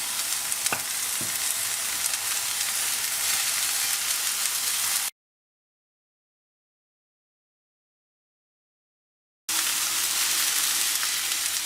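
Lamb pieces searing in a hot pan, a loud dense sizzle with stirring scrapes, cut off by a few seconds of silence before the frying resumes.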